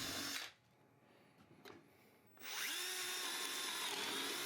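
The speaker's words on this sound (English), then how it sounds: "When you're done drilling" A power drill whines loudly boring holes in a wooden post, stops for a couple of seconds of near quiet, then starts again with a steady high-pitched bore.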